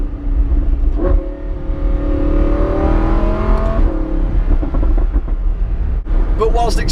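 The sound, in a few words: Lamborghini Huracan Spyder car engine revving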